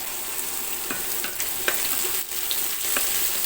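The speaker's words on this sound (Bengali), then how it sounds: "গোল্ডেন ব্রাউন করে পেঁয়াজটাকে ভেজে নিচ্ছি।" Onions frying in a pan until golden brown, a constant fine sizzle with a few soft stirring scrapes close by, no talking.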